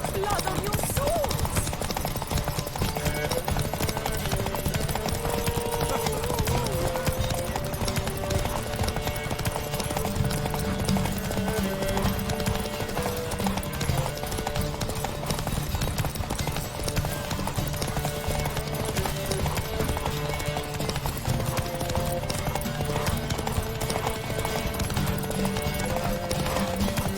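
Roach, a horse in The Witcher 3, galloping in a race with steady, rapid clip-clop hoofbeats throughout, set over a continuous game soundtrack with occasional voices.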